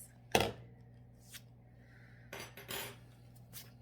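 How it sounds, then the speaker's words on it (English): A fork held in an adaptive baking tool mixes in a bowl, making a few short, quiet metallic scrapes and clinks separated by pauses, heard close in a quiet room. "put my little fork in here and then say I'm stuck like this. That way we'll be able to mix."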